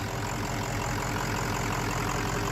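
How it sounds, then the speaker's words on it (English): A 600 hp diesel engine in a Ford Excursion build runs at a steady, rumbling idle with a low, even knock, close and continuous for a couple of seconds, no voices. "Diesel, it's running. It's running, Diesel."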